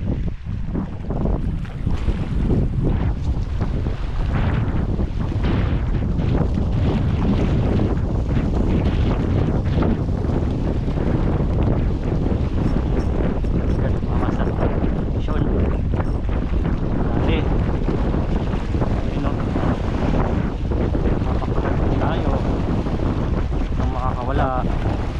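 Wind blows hard across a rocky seaside fishing spot, a constant loud rush buffeting the microphone, with waves faintly beneath it.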